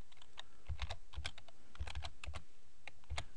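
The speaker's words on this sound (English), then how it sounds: "when you press Control F on your keyboard, press the Control button and F button" Computer keyboard keys being pressed, including the Control+F shortcut, heard as a quiet, uneven run of crisp, close plastic clicks and taps, a dozen or so keystrokes over a few seconds with no talking.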